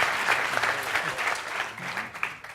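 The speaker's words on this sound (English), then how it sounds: "give a big hand of applause for the" Audience at a venture capital panel event at Nyenrode Business University breaks into steady applause, dense and moderately loud, with faint voices underneath as it tapers slightly toward the end.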